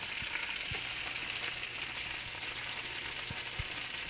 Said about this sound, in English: toss your kale in